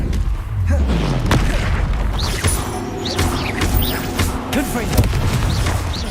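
Bombarda explosion spells from the video game Hogwarts Legacy go off in a busy combat scene, with repeated heavy booms and crashes layered over continuous loud battle noise and whooshing effects.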